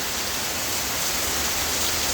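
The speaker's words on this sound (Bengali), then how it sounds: "শুনতেই পাচ্ছ কতটা জোরে বৃষ্টি নেমেছে" Heavy monsoon rain pours down in a dense, loud, unbroken roar that fills the whole short stretch with no voices.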